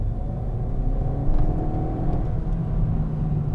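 A 2019 Suzuki Swift Sport engine pulls under full throttle from inside the cabin, a steady low droning rumble with a faint rising whir, continuous and fairly loud without speech.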